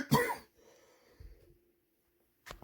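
A single person lets out a short, close cough, followed by quieter throat sounds and breathing, then a second cough starting right at the end.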